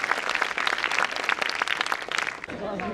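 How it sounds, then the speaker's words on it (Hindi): Audience clapping at the valedictory function of a wellness conference in 2019, honoring a doctor, a short burst of dense claps under a speaker's voice that fades as talk takes over. "जोरदार तालियां बजाइए आपके लिए"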